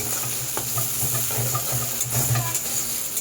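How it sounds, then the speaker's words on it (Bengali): Thinly sliced onion drops into hot oil already browning with ginger, giving a steady, close crackling sizzle with light stirring scrapes and no voices. "সেই পেঁয়াজটাও ফোড়নে দিয়ে দিচ্ছি"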